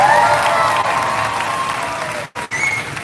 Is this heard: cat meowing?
no